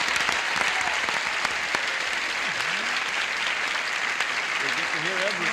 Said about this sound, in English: would you a brisk round of applause for Carmen Martinez